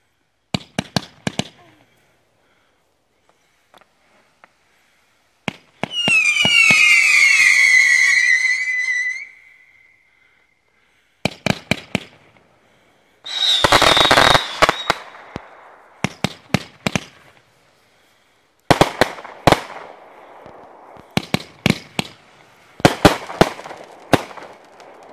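Brothers fireworks cakes fire off in bursts: sharp crackling shots, a long screaming whistle, then dense volleys of pops and crackle separated by short silences, loud and close.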